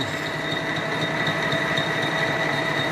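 A metal lathe turns a rebuilt, welded-up return shaft from a screw pump, giving a steady, even mechanical whine with a high tonal hum that runs without a break, close and fairly loud.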